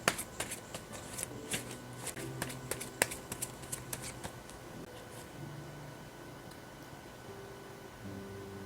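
Tarot cards are shuffled and handled up close, with crisp riffles and sharp flicks during the first few seconds, then softer sliding and placing of cards; quiet overall with a low background hiss.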